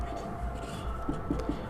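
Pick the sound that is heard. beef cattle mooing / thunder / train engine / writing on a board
writing on a board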